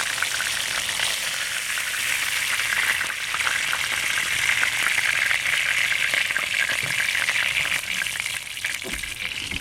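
Cod fillets frying in hot oil in a pan, giving a loud, dense, continuous sizzle that holds steady throughout with no talking over it.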